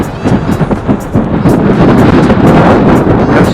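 Loud, steady wind roar buffeting the microphone while coasting downhill on an Orbea gravel bicycle with a strong tailwind, a continuous rumbling rush with no talk.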